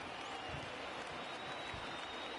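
Crowd applause from a baseball video game on PS4 forms a faint, steady wash of clapping and crowd noise from a small late-game crowd.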